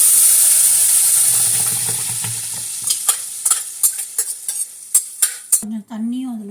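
Spinach kuzhambu gets tempered in a pan, first a loud steady sizzle of hot oil, then a series of sharp scraping stirs of a spoon against the pan, ending on a brief tonal clink.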